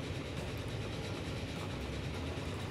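A freight oil train runs in the Transport Fever 2 video game, producing a steady rumbling rail roar with faint clattering wheel rhythm, constant and fairly loud, with no speech.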